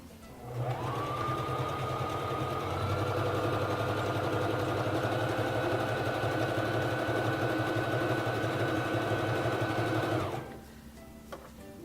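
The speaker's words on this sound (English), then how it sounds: "Lower your presser foot and begin sewing." A Singer Fashion Mate 3333 sewing machine runs a zigzag stitch, a steady close mechanical whir that speeds up after starting, holds for about ten seconds, then stops.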